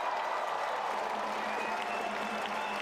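An indoor crowd at a women's indoor hockey World Cup match between Ukraine and Germany applauds in a continuous, dense wash of clapping that holds steady throughout, with no clear voice above it.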